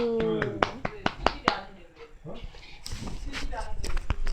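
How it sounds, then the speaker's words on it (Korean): Several sharp claps ring out in quick succession at the start of a Minecraft escape map session, followed by a stretch of speech-like chatter and shuffling noise. "박수. 박수."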